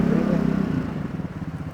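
A 175 cc Scomadi scooter accelerates on a test ride, its engine rising in a loud, close putter with a throbbing rhythmic pulse that eases off as it goes.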